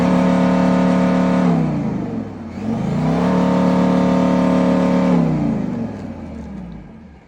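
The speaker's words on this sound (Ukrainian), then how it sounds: "ну це у нас фінальна прогазовочка" A Volkswagen Touareg with a 5.0 diesel engine revs up and holds a steady high drone, dips briefly, then climbs again and sustains before easing off, loud and close with no talking.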